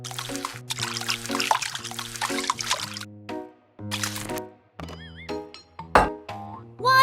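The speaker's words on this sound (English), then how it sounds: "Water." Water is poured in short trickling bursts while miniature food is cooked, with light squishy splashes and tonal boing-like effects mixed in, all fairly close and without speech.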